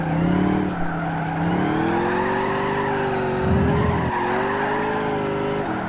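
A big block V8 truck with a six-speed in Gran Turismo 5, the engine droning and revving steadily with shifting pitch, plus a short tire squeal midway, loud and close.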